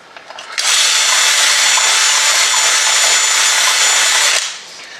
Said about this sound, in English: we'll drill that one a little bit wider.